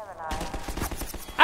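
Rapid gunfire crackles in the video game Half-Life 2, a quick burst of repeated shots at close range, ending in a sharper, louder blast.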